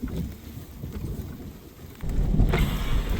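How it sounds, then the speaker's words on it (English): Thunder rumbles low across mountains during a storm, with rain falling steadily; a deeper, louder roll swells in near the end, with no voices. "A little bit of thunder up there now."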